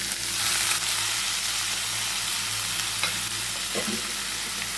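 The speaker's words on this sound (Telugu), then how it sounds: "పోపులో కొంచెంగా ఇంగువ అలానే మనము తరిగి పెట్టుకున్నటువంటి దొండకాయ ముక్కల్ని వేసేసుకోవాలి" Ivy gourd pieces fry in a hot tempering with asafoetida, a steady close sizzle with soft stirring scrapes and a few pops, no one speaking.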